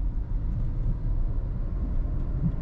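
Nissan Magnite turbo with CVT gearbox accelerating to overtake, heard from inside as a steady low engine and road rumble that holds even and continuous without speech.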